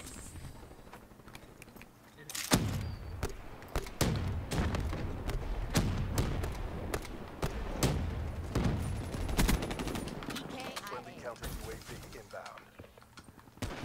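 War Machine grenade launcher in a video game firing a run of heavy thumping shots with booming impacts, irregularly spaced and close, mixed with someone talking.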